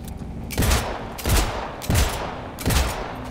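Bursts of gunfire from the video game Cyberpunk 2077, four heavy volleys about a second apart, each with a sharp low crack and a long rattling tail, loud and close with no talking.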